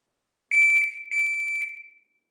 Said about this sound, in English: Try to react on the beep as soon as you can.